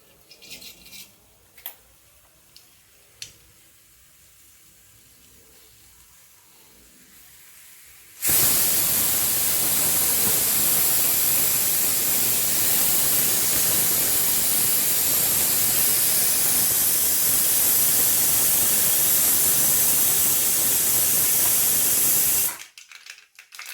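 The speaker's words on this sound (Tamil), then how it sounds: "கடுகு பொரிஞ்சிச்சு" Mustard seeds sputter and crackle in hot oil for Tamil coconut milk peas rice, a dense, loud, steady hiss of frying that bursts in suddenly after a few faint clicks and runs for about fifteen seconds before cutting off.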